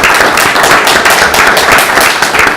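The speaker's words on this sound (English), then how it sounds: "applause for staff and volunteers." Dense, steady applause from council members and people attending a city council meeting in Owen Sound, honouring staff and volunteers. The clapping fills the room at an even level throughout, with no talk over it.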